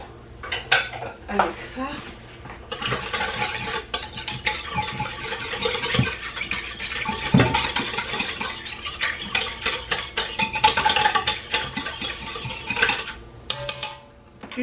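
A spoon stirs warm water into yeast in a bowl, giving steady scraping and clinking against the sides for about ten seconds, close and busy, with a brief spoken phrase.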